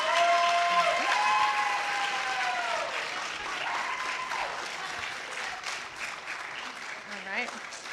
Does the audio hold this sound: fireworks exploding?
no